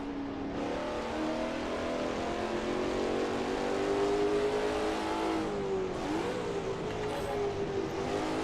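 A racing car in Assetto Corsa holds a loud continuous engine drone, then a downshift blips the revs near the end before the engine settles back into a steady pull, with no talking over it.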